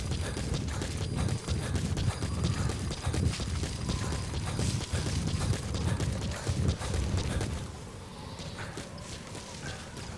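Horse hooves clip-clop in Metal Gear Solid 5, a steady run of mid-loud hoofbeats with mechanical game sounds, continuing for most of the stretch before dropping away near the end.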